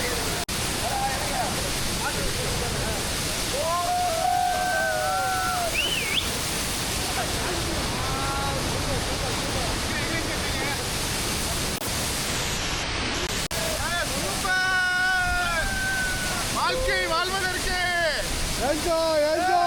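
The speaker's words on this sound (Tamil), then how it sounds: "ஆனால் இந்த அருவி வேற மாதிரி." A waterfall at the hidden falls of Achankovil in Kerala pours with a steady broadband rush, while voices talk and call over the roar.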